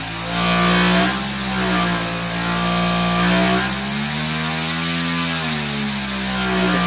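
RCTimer brushless motor spinning while badly off balance, a loud steady electric whine with a pulsing, wavering vibration that swells and dips in pitch over several seconds, close and alone.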